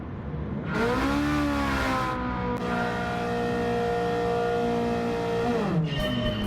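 A 740 hp Ferrari 458-engined Alfa Romeo 4C in Gran Turismo 7 accelerates hard, its engine screaming upward through rising revs, briefly dipping at a shift, then climbing again near and loud with no talk.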